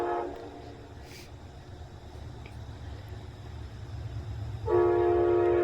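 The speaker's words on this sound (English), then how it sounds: "Amtrak 108 is back at it again, on 48 leading, with 4 private cars on the rear of the train" Amtrak 108 passenger train led by locomotive 48 with four private cars on the rear: a low rumble of rolling wheels builds, a brief horn blast sounds at the start, and a loud, sustained horn comes in near the end.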